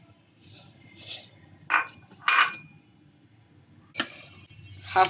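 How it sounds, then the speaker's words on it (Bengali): A utensil scrapes and clinks against a pot while half a cup of sugar is stirred into ghee-fried vermicelli, with several short metallic scraping bursts separated by quiet pauses. "হাফ কাপ চিনি ভালোভাবে মিক্স করে নিব"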